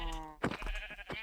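A sheep in the Minecraft video game gives a few wavering bleats up close, with a short break between calls.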